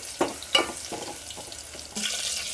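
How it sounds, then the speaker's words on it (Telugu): Scored boiled eggs frying in a pan with oil, a soft sizzle broken by several stirring scrapes, then a louder, denser burst of frying near the end, close by and without speech. "ఇప్పుడు గాట్లు పెట్టుకున్న గుడ్లను ఇందులో వేసి ఒక ½ మినిట్ ఫ్రై చేసి"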